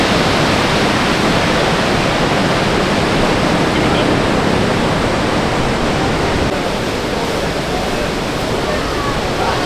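Niagara Falls thundering, a loud, close, unbroken roar of heavy falling water with no breaks or distinct events.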